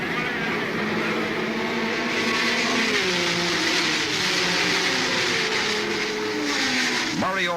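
Engines of race cars roar away at the start of the 1970 Sebring 12 Hours endurance race on a 5.2-mile road course, with Mario Andretti's Ferrari number 19 leading a field of 68 cars. The pitch rises continuously under a voice speaking over the engine noise.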